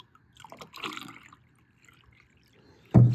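Vinegar being poured into a container in a garage workshop, heard as faint liquid trickles and drips followed by a louder splash at the end, quiet and close with no talking.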